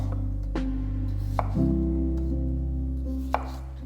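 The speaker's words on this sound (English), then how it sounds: "Roughly chop half the radish." A knife roughly chops half a radish on a cutting board, giving a few sharp, separate thuds of the blade over a steady low background hum.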